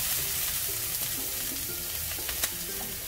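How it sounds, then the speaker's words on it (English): Onion lightly sautéing in a pan, a continuous close hiss and sizzle with faint occasional stirring scrapes, steady throughout and no voices. "Just going to lightly saute the onion."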